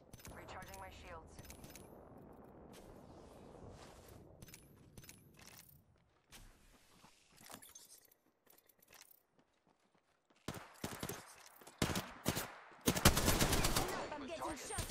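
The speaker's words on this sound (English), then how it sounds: "I'm getting shot at." Rapid gunfire bursts in the video game Apex Legends, loud and clustered toward the end after quieter footsteps and game sounds.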